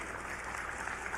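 Audience applause breaking out after a performer begs the crowd to clap at a political speech, a steady, moderate wash of clapping lasting about a second with no voices on top.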